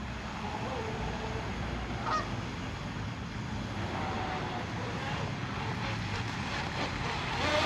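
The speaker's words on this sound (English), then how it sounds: "Get these birds out of the way." Geese honk on open water near a fiberglass RC hydroplane boat, several calls sounding over a steady outdoor rumble and motor drone, moderately distant, with someone talking at times.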